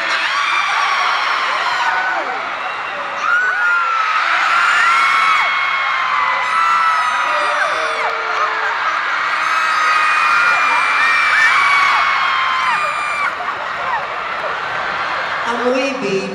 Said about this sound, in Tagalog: Malakas ang hiyaw nyo pag pinagsama-sama.